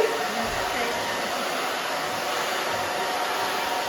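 A handheld hair dryer runs steadily while drying a short bob haircut, a continuous close, loud airy whoosh with an even motor hiss throughout and no pauses.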